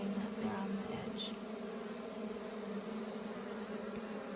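A honeybee fans its wings at the edge of a hive after a nuc transfer, giving a continuous, even buzzing drone close by amid a wider background hum.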